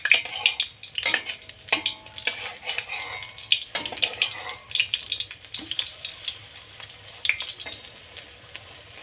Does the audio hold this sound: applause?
no